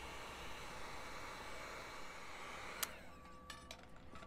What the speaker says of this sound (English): with a heat gun, you're gonna heat this up